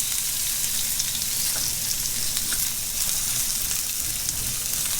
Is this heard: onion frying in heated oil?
yes